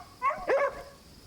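A military boarhound barks in the video game Crimson Desert, two close, sharp woofs in quick succession with no speech.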